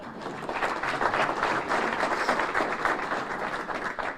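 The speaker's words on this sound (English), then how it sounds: "we're going to give him a round of applause" Audience at a mayor's State of the City address applauding for an honoree, a dense continuous round of clapping from a large room that holds steady throughout.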